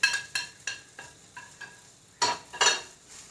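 Ground chicken masala and coriander powder stirred into a hot pan for an elephant-yam masala curry: a string of short, evenly spaced scraping strokes, then two louder, longer sizzling scrapes, all close up with no voices.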